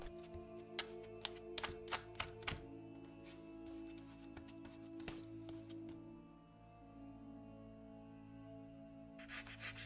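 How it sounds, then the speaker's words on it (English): A crumpled aluminum foil ball dabs and rubs over the rocky surfaces of a small autumn diorama, giving quiet crinkly scrapes and taps in short irregular bursts, close and soft, with a pause in the middle. "Then it was time to texture the rocky surfaces with an aluminum foil ball."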